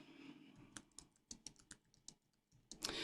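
Keys clack on a computer keyboard in quick, uneven taps, close and quiet, with short pauses between bursts.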